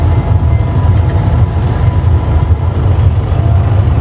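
Steady low rumble of a train ride between Colombo and Kandy in Sri Lanka, continuous rolling and engine drone with no distinct clacks, fairly loud and unbroken throughout.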